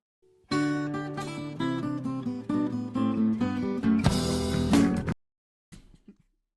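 The 'To Be Continued' meme song plays as a sound effect: a bright plucked and synth intro runs for about four and a half seconds, swells, then cuts off abruptly, followed by a faint brief noise.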